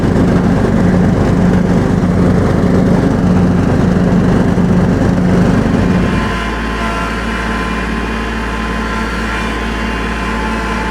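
A tractor engine drones loud and close with a steady, throbbing hum, then drops abruptly to a lower, quieter idle-like rumble partway through; no voices.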